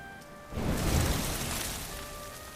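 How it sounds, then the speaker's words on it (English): Rain in the video game Dragon Quest XI, a soft, diffuse hiss of falling water that swells briefly then eases off, heard alone without voices. "Looks like the rain's dying down."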